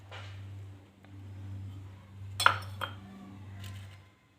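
Eggs and refined oil go into a bowl for a homemade cake, giving a few soft clinks and knocks of utensils against the dish over a low steady hum, with a sharper clatter near the middle.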